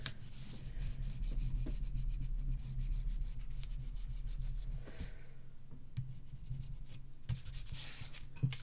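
Paper being burnished down onto a handmade album, a steady close rubbing stroke that continues nearly unbroken, easing off briefly in the middle and ending with a few sharper scrapes.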